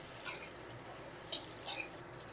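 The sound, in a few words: potatoes frying in oil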